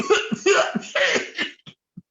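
Repeated coughing in a staged comic sketch at a Purim spiel celebration, several harsh bursts in quick succession up close, then a few brief fainter coughs trailing off.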